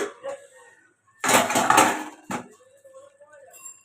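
A metal lid lifted off a cooking pot of spicy chicken curry on a gas stove gives a short clattering scrape of metal, with soft kitchen noises before and after it.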